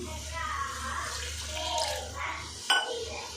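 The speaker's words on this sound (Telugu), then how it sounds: "కొన్ని వాటర్ పోస్తుంది రండి" Water is poured into a pot of rice for vegetable dum biryani, giving a steady, close splashing gush with a short burst near the end, and a voice is heard speaking over it.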